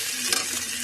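Rice with chopped onion, garlic and ginger being stirred in a hot pan, a brief burst of steady sizzling with a couple of scraping strokes, close and fairly loud.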